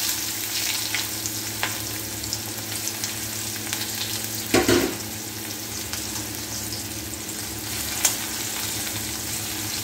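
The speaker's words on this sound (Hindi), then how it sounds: "तेल हो गया अच्छे से गरम, तो इसमें डाल देंगे जीरा और हींग। और मैंने प्याज रफली चॉप करके रखे," Chopped onions hit hot oil already crackling with cumin seeds and asafoetida, giving a steady, close sizzle throughout with a brief louder burst of spattering midway and a small pop near the end.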